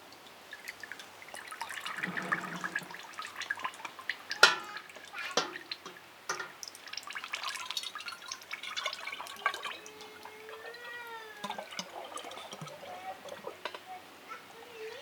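Elderflower cordial is poured and dripped into dishwasher-sterilized glass bottles. Close, intermittent liquid trickles and splashes are heard with clinks of glass, and a rising gurgle comes as one bottle fills.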